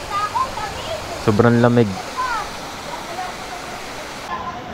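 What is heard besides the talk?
Kakawayan Falls waterfall, Infanta Quezon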